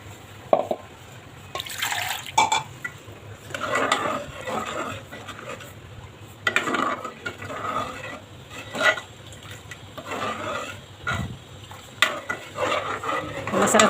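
A spoon stirs green masala cluster bean curry in a pan, giving repeated scraping and wet squelching strokes with light metal clinks, close and fairly loud in irregular bursts.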